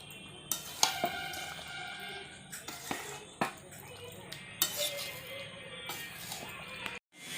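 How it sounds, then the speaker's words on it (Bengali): Chicken sautéed with sour yogurt in a pan while a metal spatula knocks and scrapes against the pot in irregular clinks over a low sizzle, with some background voices. "টক দই দিয়ে আমি আরও ভালোভাবে কষিয়ে নেব মাংসটা।"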